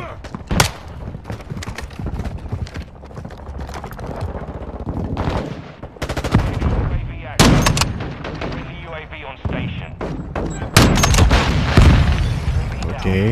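Heavy gunfire in a Call of Duty: Modern Warfare II Invasion ground war match, repeated loud shots and rapid bursts with distant explosions, a voice occasionally heard underneath.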